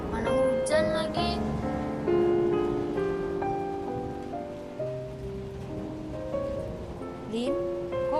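Steady rain patters on a surface as a continuous wash beneath music in the background.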